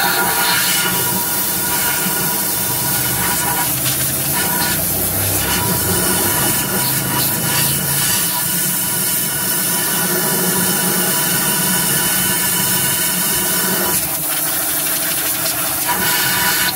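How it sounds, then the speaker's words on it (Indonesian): Compressed air sprays from a nozzle to clean a car engine part, a loud, continuous hiss that rises and falls in strength in short bursts throughout, with no talk. "kita semprot dengan angin."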